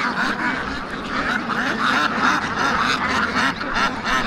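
A large flock of white Belgian ducks on a riverside farm quacking continuously, many overlapping calls forming a dense, loud chorus close by.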